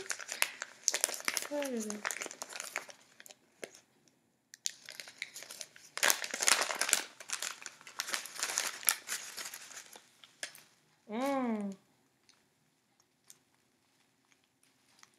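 A crinkly package, a small tea sachet, is opened up close with loud bursts of plastic crumpling and tearing spread over several seconds, while someone speaks between the rustles.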